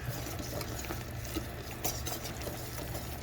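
Thick tomato-paste mixture sputters and spits steadily in a hot pan, a continuous crackling, bubbling patter with occasional sharper pops, close and fairly quiet, with no voices.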